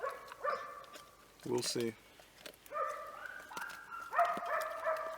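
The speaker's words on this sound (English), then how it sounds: "That's a random dog barking." Hounds bark and bay in the woods, several drawn-out yelping calls at moderate distance, while someone talks nearby.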